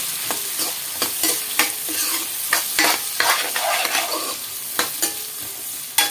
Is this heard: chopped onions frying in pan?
yes